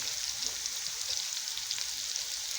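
Liver sizzling steadily in a pan with black and red pepper, a continuous bright frying hiss that holds close and even throughout with no voices.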